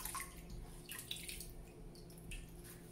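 A beauty blender makeup sponge being soaked under running water from a tap, a faint steady trickle with light splashes and drips, quiet and close with no talk.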